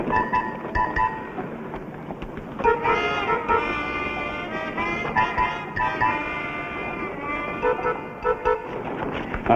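Sheep bleat repeatedly at close range in a Western television episode, overlapping wavering cries in irregular bursts, some loud and some softer, continuing throughout.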